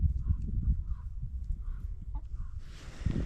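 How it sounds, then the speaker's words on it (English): Chickens on a small Montana cattle farm cluck softly in short, repeated calls while pecking at scratch, with rustling and scraping close by and no talking. "we're gonna throw some scratch for the chickens."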